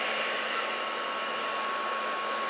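Heat embossing tool blowing hot air to melt embossing powder on a card-making project, a steady loud whirring hiss that holds unbroken throughout with no talk.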